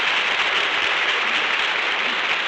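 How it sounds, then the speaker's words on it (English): A radio studio audience applauds in a full, even wash of clapping that holds steady throughout without any voices over it. "That applause goes from coast to coast."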